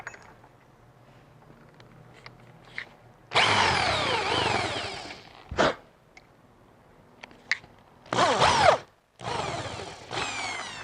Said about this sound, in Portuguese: Eu vou fazer um furo sem a fita e com a fita para vocês verem a diferença